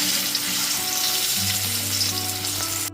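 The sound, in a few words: shrimp coated in salt and turmeric frying in oil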